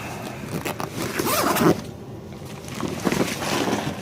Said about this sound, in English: Zip that back up.